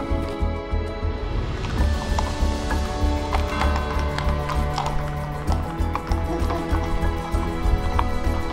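Horse hooves clip-clopping in a steady galloping rhythm during a riding lesson at a forest stable, close and continuous throughout, with occasional faint whinnies and no clear speech over the hoofbeats.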